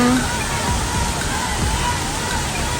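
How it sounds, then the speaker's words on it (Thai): Steady, broadband rush of flowing water at a waterfall on Koh Kood, Thailand, filling the whole clip at an even, loud level. "ที่นี่นะเขาบอกว่ามีน้ำไหลตลอดทั้งปี"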